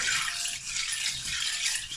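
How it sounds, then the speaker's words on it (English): Soybeans being washed in cold water, a steady broadband rush of running and sloshing water close by, continuous and fairly loud with no voices. "So you want to wash the soybeans to agitate if there's any dirt or anything on them."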